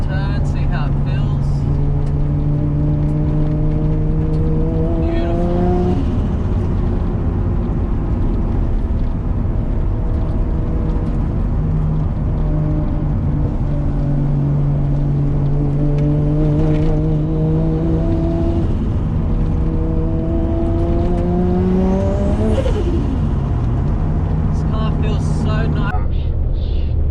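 A 550 hp Nissan R33 with an RB25DET engine pulls hard through the gears on a course, its loud, close engine note climbing in repeated rising sweeps between shifts, with wind and road roar underneath.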